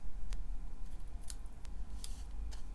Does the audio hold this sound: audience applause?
no